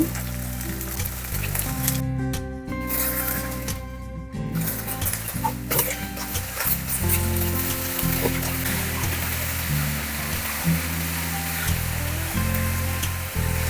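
Onions dropped into hot oil in a pan give a loud, close sizzle that holds steady throughout, with a few brief clatters of utensils and no talking.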